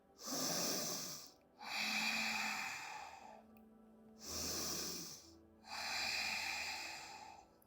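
Deep breathing during a yoga exercise: four slow, close, airy breaths alternating inhale and exhale, each lasting about a second and a half with short pauses between, and no talking.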